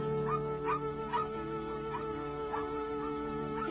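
Puppies yip and whimper in short, high cries, several of them in a row, over a steady low hum.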